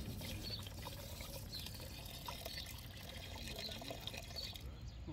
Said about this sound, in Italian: La versata tutta in una volta.